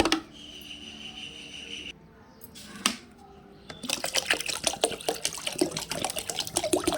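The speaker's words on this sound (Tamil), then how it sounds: "தண்ணியை ஊற்றிட்டு காட்டுறேன்" Water pours and splashes into a container in a steady, fairly loud stream, preceded by a few clunks and quieter handling noises.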